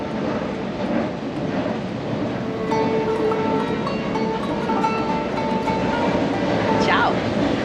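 An Istanbul metro train rumbles steadily with a wide roar. Faint tonal whines and a brief squeal of wheels or brakes rise near the end.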